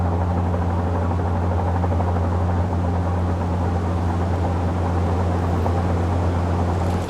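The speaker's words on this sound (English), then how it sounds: "You can add the sound of a helicopter" Helicopter sound effect, a loud, continuous rotor drone with a steady low throbbing hum that runs unbroken and alone, with no voices.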